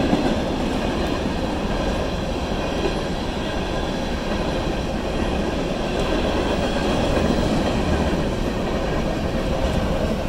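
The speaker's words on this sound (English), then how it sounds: "It's Union Pacific locomotive 8989." Union Pacific locomotive 8989 pulling an eastbound train past a road crossing, a steady loud rumble of rolling cars and wheels on rail that fills the whole stretch without pause, close by and alone.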